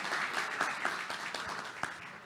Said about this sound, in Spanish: Les pido un fuerte aplauso para Tomás Pomar y Ezequiel Cuaine.